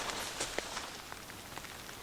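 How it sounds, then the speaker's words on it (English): Light rain patters on a tent and tarp outdoors during a spring ice-out trip, scattered soft drops ticking over a faint, even hiss, with no one speaking. "it's starting to rain again"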